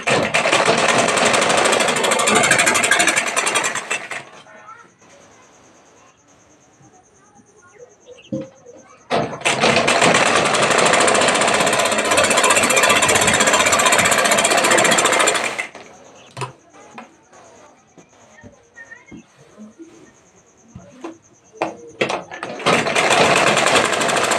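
A sewing machine runs in loud, steady stretches of several seconds each while stitching along a blouse edge, with quieter pauses and soft handling sounds between the runs.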